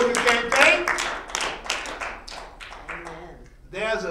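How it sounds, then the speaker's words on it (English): A church congregation at a full gospel service claps hands in a quick, uneven burst of sharp claps close by, thinning out toward the end as a voice rises over it. "Can't you give him a clap hand on that?"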